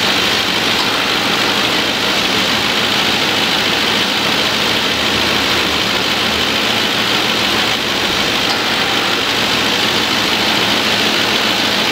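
Ford Crown Victoria engine idling with the A/C compressor running during a refrigerant recharge, a loud steady broadband hum and rumble, close and continuous, without talk.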